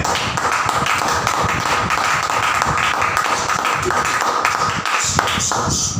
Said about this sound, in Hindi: यीशु के एक बार जोरदार तालियां